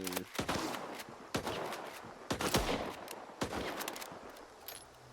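Gunfire in the S.T.A.L.K.E.R. video game, a series of sharp, loud shots in irregular bursts with reverberant tails, close and dominant throughout.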